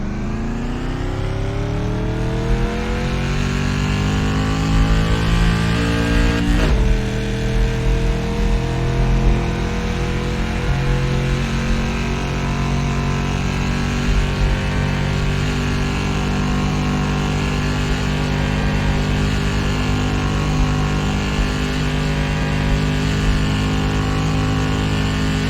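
An SK Modified race car in iRacing accelerates out of the pits, its engine droning loud and steady with a rising whine, a brief gear-shift dip, then sustained high-revving roar alone.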